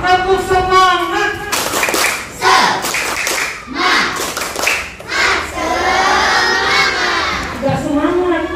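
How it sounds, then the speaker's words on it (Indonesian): A Year 4 classroom of Indonesian children bursts into the rhythmic 'tepuk semangat' spirit clap, with loud chanting voices, sharp hand claps and thumps in quick patterned bursts, close and lively. "Coba tepuk semangat."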